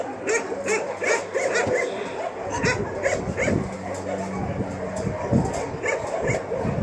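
An old dog at a dog shelter whimpers and yips in short repeated bursts, close by, while people talk over it.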